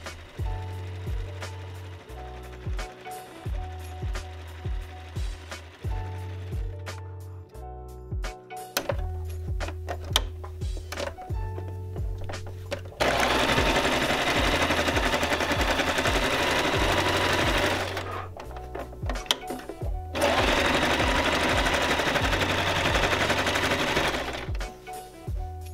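An electric sewing machine stitches fabric for a guinea pig corner hammock, running in close rapid bursts with short pauses, then longer continuous runs of fast, steady needle clatter.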